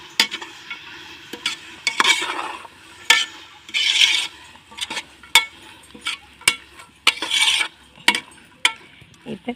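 Mushroom biryani being stirred in a pot over a wood-fired stove, repeated scraping strokes of a ladle against metal in irregular bursts over a faint background sizzle, no voices.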